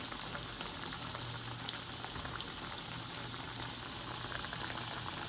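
Breaded green tomato slices fry in hot oil in a pan, three at a time, giving a steady, dense crackling sizzle that stays even throughout at a moderate, close level, with no talking.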